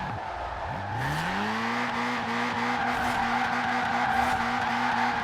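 Tires of a Toyota AE86 Trueno squeal steadily through a drift in Forza Horizon 4, the engine note climbing and holding under a continuous, loud skid with no talking.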